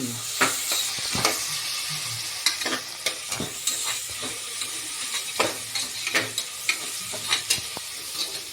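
Onions frying in a pan with a light sizzle underneath repeated sharp scrapes and taps of a spatula against the pan, a dozen or so irregular strokes, close and clear, with no voices.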